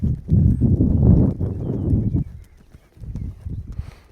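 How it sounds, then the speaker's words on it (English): A horse loping around an arena on the counter canter, hoofbeats thudding in a steady three-beat rhythm, loud and close at first, then easing to softer footfalls before picking up again. "And loping around here in the counter canter."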